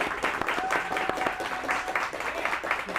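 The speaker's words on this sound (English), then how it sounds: "Give a round of applause." A live television studio audience applauds in a sustained wash of close, dense clapping lasting a few seconds, with a faint tone running under it.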